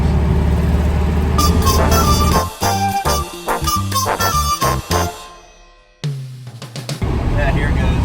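An air-cooled car heads down Mount Zion in extreme heat, its engine a loud, rough drone heard from inside the cabin that dips and briefly falls nearly silent before surging back.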